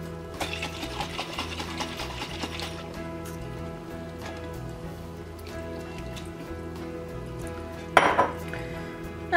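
Glass jar of marinara sauce with about half a cup of water being shaken in a kitchen, a rattling sloshing rhythm over steady background hum, with a sharp clink near the end.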